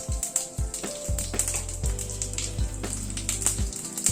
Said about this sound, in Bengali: তেলটা গরম হওয়ার পরে একটা শুকনো লঙ্কা প্রথমে ফোড়নে দিলাম।